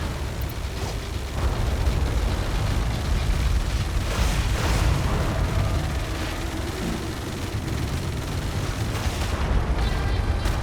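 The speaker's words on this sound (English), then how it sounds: "We are opening fire at hostiles." Continuous military gunfire and booming explosions from combat in Tom Clancy's EndWar, a dense rumbling barrage throughout with no clear pauses.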